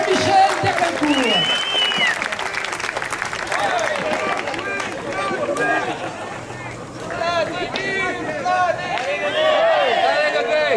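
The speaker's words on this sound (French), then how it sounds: "On applaudit bien fort Jean-Michel" A crowd applauds and cheers a runner on his last lap at an outdoor pétanque relay event in Canada, with sustained clapping under lively voices and a shouting announcer throughout.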